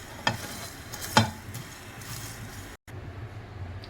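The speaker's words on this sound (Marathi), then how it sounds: "हे छानपैकी रोस्ट करू आपण, खूप जास्त पण लाल नाही, रोस्ट करायचे आपल्याला हलके।" Black pepper, cumin and coriander dry roasting in a pan, a steady soft rustling hiss close by, with two sharp knocks of a spoon against the pan early on and a brief dropout near the end.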